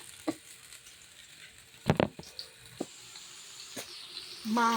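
Garlic frying in cooking oil makes a faint, steady sizzle, broken by a few sharp clinks and knocks and a short burst of voice at the end.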